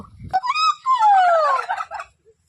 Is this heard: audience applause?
no